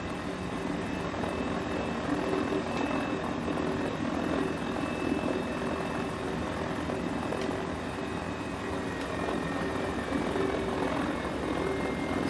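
Mini 500 helicopter in Microsoft Flight Simulator flying along the coast at Kiama, Australia: a steady, unbroken rotor and engine drone holding an even level throughout, with no voices.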